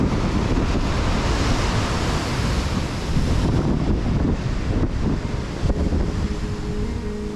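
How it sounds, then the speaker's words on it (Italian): Rough sea crashes onto a red-sand beach in a Peruvian national park, loud continuous surf roar mixed with heavy wind buffeting the microphone, no voices. "Il mare è agitatissimo."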